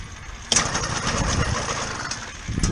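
A motorized bicycle engine on a Nel Lusso bike kicks in with a sudden rough burst, chugs unevenly for a couple of seconds, then dies away before sputtering briefly again, close and loud.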